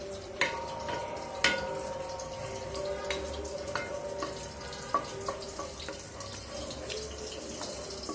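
Soybean oil and ghee heating in a pan ahead of whole spices for batra, giving a steady low sizzle and bubbling with a few sharp clinks and taps of a utensil scattered throughout.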